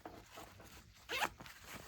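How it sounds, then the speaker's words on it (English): A zipper on the mesh pouch of a tool roll is pulled open in one short quick run, close and fairly soft, with light handling rustle around it. "When it unfolds, you have a mesh pouch that's zipper closed, so you have secured storage of smaller items."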